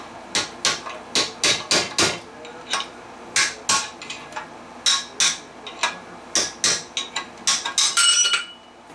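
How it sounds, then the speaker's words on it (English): A stuck bearing race is hammered out of a Webster 801/802 compressor in a series of sharp, close metallic blows at an uneven rhythm, followed by a quicker flurry of strikes at the end. "so I'm just going to try and hammer this out"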